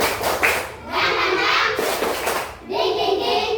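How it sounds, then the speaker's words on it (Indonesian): Children clapping in a classroom ice-breaking chant, a steady rhythmic run of hand claps with thuds and young voices chanting along throughout. "Tepuk semangat."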